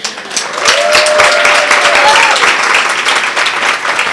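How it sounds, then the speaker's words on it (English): A crowd applauds steadily at the African Women in Media Awards conference, a dense continuous round of clapping that holds for several seconds with a faint tone running beneath it. "you can join me in clapping as well"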